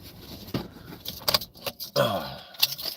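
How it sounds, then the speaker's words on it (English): Metal keys jangle in short bursts as they are handled and slipped into a pocket, close and fairly loud, with some rustling in between. "Put these keys in my pocket."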